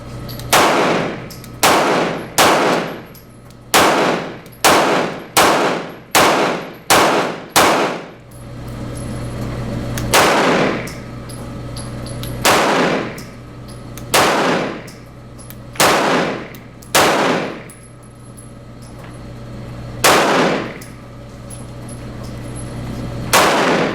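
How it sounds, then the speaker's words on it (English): Loud, close pistol shots from a Walther VP9 fitted with a stainless steel guide rod: a quick string of about nine shots, then eight more fired at a slower, steadier pace, with no talking. "We're going to keep shooting"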